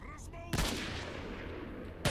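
A sniper rifle shot cracks out in the game S.T.A.L.K.E.R. Shadow of Chernobyl in the Red Forest, a sharp loud blast rolling into a long echoing tail, with a second shot striking near the end after a short bit of speech.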